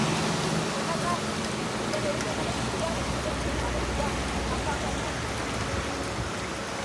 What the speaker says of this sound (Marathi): आणि आता तर जामच पाणी झालं आहे आणि पाऊस पण काय ऐकत नाही,